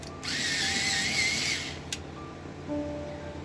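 A colored pencil is ground in a pencil sharpener: a steady whirring buzz for about one and a half seconds, then a short click and quieter faint hum, close and alone.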